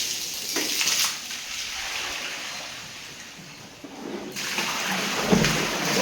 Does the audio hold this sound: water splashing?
yes